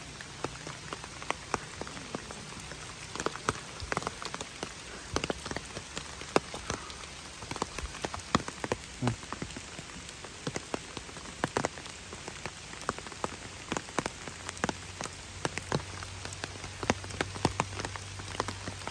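Rain falls on a surface in a steady patter, with scattered louder drops hitting close by throughout, and no voices.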